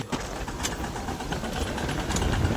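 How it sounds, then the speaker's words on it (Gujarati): A tractor engine running in a village farm setting, a steady close low rumble with a faint rattle that holds throughout, with no voices. "અહીંથી ટ્રેક્ટર નીકળી ગયું હાલી"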